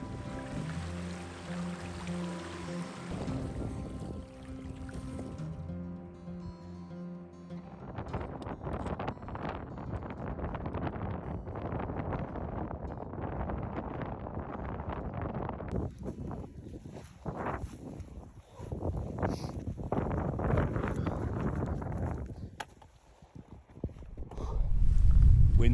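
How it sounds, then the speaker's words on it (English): Strong wind sweeps across a Norwegian mountainside during a hike, buffeting the microphone in a steady roar that surges and gusts, at times loud and rough, with brief lulls and a heavy gust at the end. "Wind's really picking up now."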